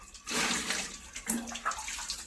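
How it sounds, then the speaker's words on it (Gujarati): Water splashes and gushes for a couple of seconds as a dusty household air cooler is rinsed out at home, close and fairly loud with a brief burst and trailing splatter. "એને પાણીથી થોડુંક ધોઈ નાખીએ આપણે"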